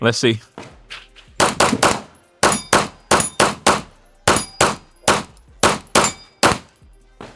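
Rapid pistol shots from a Mac DS ring out at an outdoor range, sharp and close, in quick strings of loud cracks with metallic clangs of steel targets; someone speaks briefly at the start.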